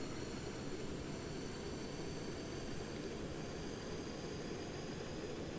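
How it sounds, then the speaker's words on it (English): The APU of a Boeing 747-100 runs in a flight simulator game, a steady, even whine and rush that stays constant throughout with no talk. "Alright, so the APU is now running."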